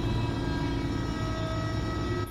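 A freight train in Farming Simulator 22 on a delivery run toward a tunnel, rumbling loudly and steadily with a droning horn-like tone throughout, then easing off at the end.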